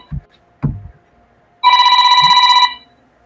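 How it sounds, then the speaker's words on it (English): A telephone rings once in a steady electronic burst of about a second, preceded by a few short thumps and followed by quiet. "I gotta get rid of this phone call."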